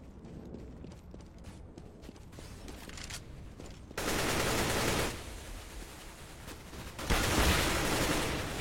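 Gunfire in a Counter-Strike match, dense bursts of rapid automatic fire in two loud stretches over a busier background clatter of shots and game sounds, with no talk.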